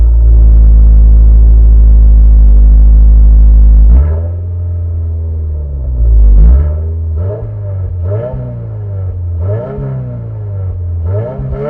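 Subaru WRX VB engine and exhaust, first a loud steady high-rpm hold for about four seconds, then dropping to idle and followed by a series of sharp revs that rise and fall back, close and alone.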